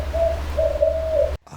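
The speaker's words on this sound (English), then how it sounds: "Can you hear that owl or no?" An owl hoots in the woods: two drawn-out, tonal low hoots close together, clear and steady over a constant low background hum, then a sudden cut to near silence.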